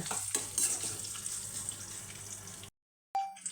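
Onions frying in hot oil with tempering seeds, a soft steady sizzle with light stirring, close but quiet, cutting to silence near the end before a brief sound resumes.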